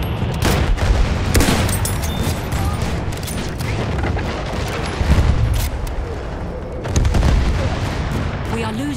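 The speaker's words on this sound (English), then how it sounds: "Artillery battery! Be careful!" Artillery barrage in the video game Battlefield 1 multiplayer, with repeated loud booms and bursts of gunfire rolling over a dense, chaotic battlefield din.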